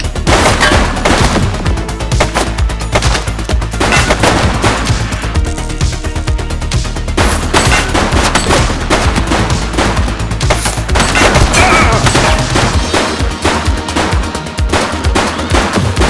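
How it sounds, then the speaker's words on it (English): Dense, continuous gunfire from The Precinct, a cop sandbox video game: a suspect's shots and rapid automatic bursts crackle loudly and nearly without pause, layered over a heavy low rumble with sharp individual cracks. "He's shooting!"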